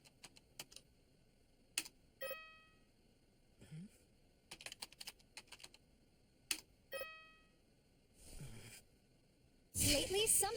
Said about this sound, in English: I must have typed it in wrong.